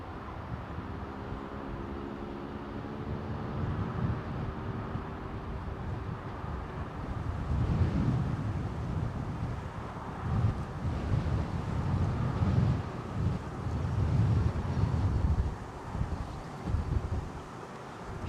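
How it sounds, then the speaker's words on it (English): Steady wind buffets and rushes across the microphone at London Heathrow Airport, a continuous low roar that swells louder in gusts through the second half, with no voices. "Wind's blowing in the opposite direction."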